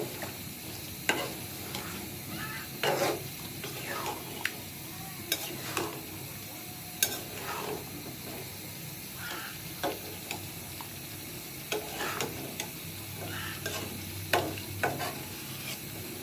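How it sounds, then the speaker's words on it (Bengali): Spice paste for an egg-laden karfu fish dopeyaza cooks in a pan with fish pieces added, a soft sizzle broken by intermittent stirring scrapes and clicks, fairly quiet and close, with no one speaking. "আমি মশলাটা অনেক ভালোভাবে কষিয়ে নিচ্ছি। মাছগুলো দিয়ে দিলাম।"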